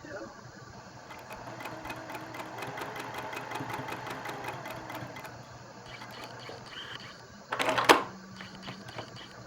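A sewing machine stitches a quilt block with a steady, rapid mechanical chatter for several seconds, followed by a short, sharper clatter near the end.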